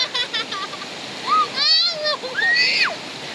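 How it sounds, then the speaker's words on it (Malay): Water splashes and rushes steadily as a child bathes at a campsite, a constant wash of close water noise under children's voices talking. "Ah, Zara mandi."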